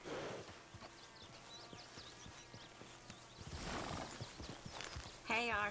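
Horse hooves clip-clop at a walking pace in Red Dead Redemption 2, with muffled voices in the background and a short, close whinny bursting out near the end.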